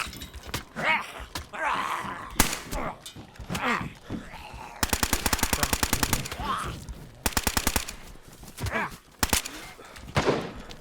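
Bursts of rapid automatic gunfire rattle in several long volleys, mixed with single shots and game sounds from DayZ, while voices talk over the action.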